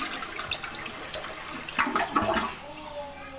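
A home toilet flushes in a short, quiet rush of swirling water that peaks partway through and then fades into a thin refill trickle.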